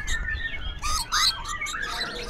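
A red-breasted rainbow lorikeet gives shrill, piercing chirps and squawks in a few quick bursts, close and fairly loud against a low background hum.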